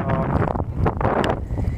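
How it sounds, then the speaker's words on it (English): Strong wind buffets the microphone on icy Stone Mountain in cold, cloudy weather, giving loud gusty rumbling and whooshing throughout the short stretch. "it's very windy and very cold"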